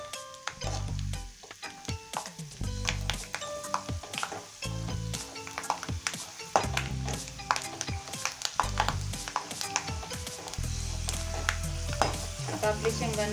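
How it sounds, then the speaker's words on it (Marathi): Peanuts frying in oil for Solapur-style maize chivda, with a close, steady sizzle broken by repeated stirring and scraping of a utensil in the pan, rhythmic and moderately loud. "त्याच तेलामध्ये आपल्याला शेंगदाणे तळून घ्यायचे आहे।"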